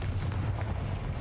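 A deep, booming fiery blast from the Confringo spell in Hogwarts Legacy, a short rumbling explosion with heavy low-end impact that decays quickly.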